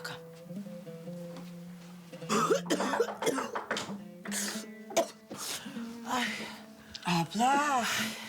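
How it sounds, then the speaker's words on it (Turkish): A person coughs repeatedly in harsh, raspy bursts, mixed with throat clearing and strained vocal sounds, close by and fairly loud. "Çok fena öksürüyorsun."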